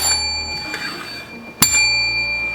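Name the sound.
notification bell sound effect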